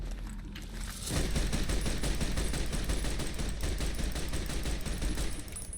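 Rapid automatic gunfire in the video game Fallout New Vegas starts after a second of quiet, then rattles on steadily as a close, sustained fusillade.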